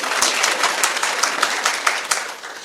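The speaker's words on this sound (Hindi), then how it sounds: "सर के लिए तालियां बजा दो यार" A seated audience at a business talk claps steadily for the presenter, a dense burst of applause with sharp individual claps, fading slightly toward the end, no voices.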